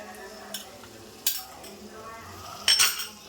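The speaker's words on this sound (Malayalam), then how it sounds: "ഇതെല്ലാം കൂടെ നന്നായിട്ട് വഴറ്റിയെടുക്കണം" Kashmiri chili powder and coriander powder masala is stirred and sautéed in a pan for chicken curry: quiet low sizzling under three sharp metallic clinks of a spoon against the pan.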